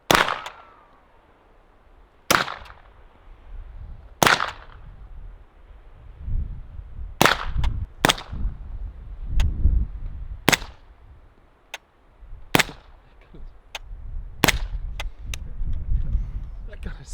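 Suppressed shots from a B&T SPC9 PDW SD fire singly and in quick pairs, sharp muffled cracks spaced over several seconds, with low murmured voices in between.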